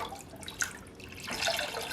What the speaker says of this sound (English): Now I'm going to put in my lye water and bring it to trace